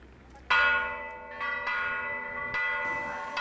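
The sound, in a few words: church bells ringing in Juli, Peru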